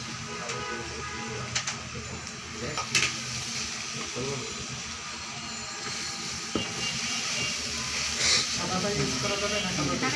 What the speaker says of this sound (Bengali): এরপর হচ্ছে এখানে কালো গোলমরিচের গুঁড়া দিয়ে দেবো হাফ চা চামচ